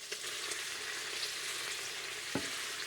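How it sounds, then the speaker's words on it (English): Onions and garlic hit a hot pan with browned beef on a Rayburn cooker, a steady close sizzle with a soft stir scrape or two and one sharper clatter near the end. "Second batch of beef is browned. Time to add in the onions and the garlic."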